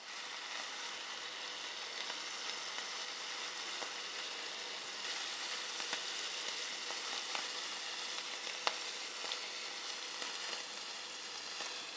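Salsiccia sausage fries in a pan with a faint, steady hiss and sizzle and occasional soft pops, heard alone without talk.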